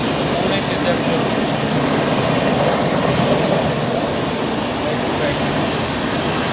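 Lokshakti Express train running after leaving Vapi, a steady broadband rumble of the moving coach heard from inside, continuous and fairly loud with no distinct clacks.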